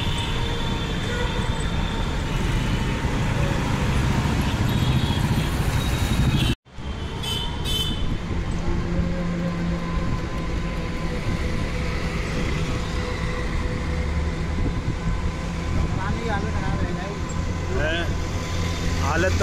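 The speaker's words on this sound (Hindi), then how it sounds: "अजमेर रोड पे ट्रैफिक" Busy road traffic on Ajmer Road in Jaipur, a constant loud roar of engines and passing vehicles with a brief dropout partway through, while people talk over the noise throughout.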